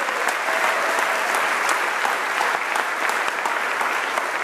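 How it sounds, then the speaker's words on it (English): A room full of people at the inaugural Silicon Prairie Awards applauds the Goodsmiths team, giving steady, dense clapping that holds at an even level from start to finish. "please clap for the entire team of Goodsmiths."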